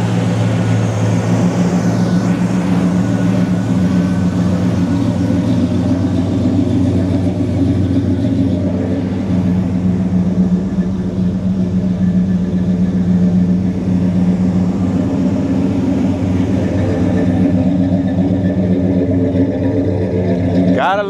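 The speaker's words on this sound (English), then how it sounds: "Gotta love the way a Pontiac engine sound." A 1972 Pontiac LeMans convertible's engine idles steadily and smoothly for the whole stretch, a close, constant low mechanical hum with no talking over it.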